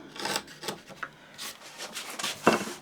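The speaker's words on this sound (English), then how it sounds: "You don't want to take huge amounts off in pine, but you do need a sharp chisel" A sharp chisel pares thin shavings from pine for a tapered sliding dovetail joint, giving a series of short, dry scraping strokes at close range, spaced irregularly with a brief sharper rasp near the end.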